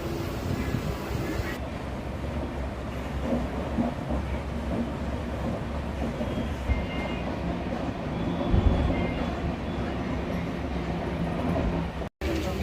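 Kirandul Express pulling into Araku Valley station, a continuous heavy rumble of rolling rail cars with steady broadband clatter and a brief surge near the end, close and loud throughout.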